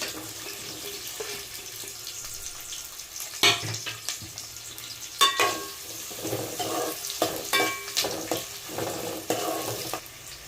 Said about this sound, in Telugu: ముందు బాగా జీలకర్ర వేసి ఆనియన్స్ అయితే వేస్తున్నాం